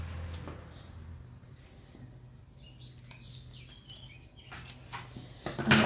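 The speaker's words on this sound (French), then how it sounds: "On entend les oiseaux." Small birds chirp and tweet faintly in a quiet room, with brief thin calls scattered over low hum and a few soft handling clicks near the end.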